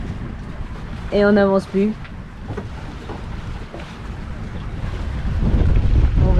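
Wind buffets a sailboat at sea off Martinique's leeward coast in about ten knots of breeze, a low steady rush over the microphone with water sloshing against the hull, building louder toward the end; someone speaks briefly early on.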